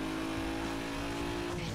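A car engine in Need for Speed Most Wanted drones in a steady, loud, unbroken tone as it accelerates, heard alone and close with a slight whine on top.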